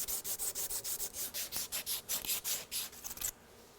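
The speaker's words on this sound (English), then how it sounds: "take and kind of scrape the high spots off" Rapid rhythmic scraping strokes, a dozen or so quick passes of a knife blade scraping high spots off hardened filler on a thermostat and water pump housing, close up, then stopping abruptly.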